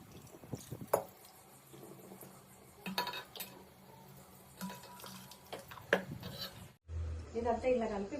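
A spoon stirs and mixes mutton curry with cashew-coconut paste and tamarind in a metal pot, giving scraping clinks of utensil against metal with wet, thick sloshing, ending in a louder burst of sizzling.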